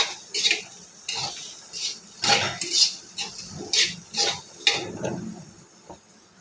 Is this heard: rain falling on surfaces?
no